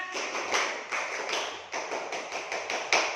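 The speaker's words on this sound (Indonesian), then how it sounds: "Coba tepuk semangat." Classroom students clapping in a rhythmic spirit-cheer routine, with sharp repeated claps in quick patterned bursts at close range and no talk.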